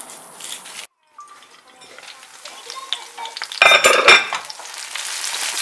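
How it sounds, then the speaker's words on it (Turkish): Shallots fry in a pan while being stirred with a utensil, a steady close sizzle broken by a brief pause, then a louder burst of scraping and spattering near the end. "soğanlarım çok güzel bir şekilde pişti"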